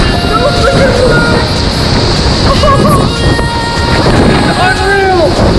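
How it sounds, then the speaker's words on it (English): Loud, steady roar of a waterfall crashing down from directly overhead in Ubud, Bali, with constant wind-buffeting on the microphone and excited voices shouting over the rush of water. "I'm underneath the waterfall!"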